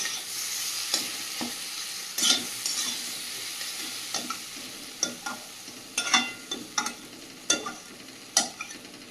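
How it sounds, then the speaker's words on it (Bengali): Potatoes sizzle steadily in a pan while a spatula scrapes and stirs, making repeated sharp clinks and scrapes close by, with no talking. "আলুটা যত ভালো করে ভাজা হবে ততই ভালো স্বাদ আসে"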